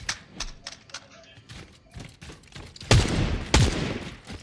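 Burst-fire weapon shots in Fortnite, with two loud, close bursts near the end following quieter scattered clicks and thuds of gameplay.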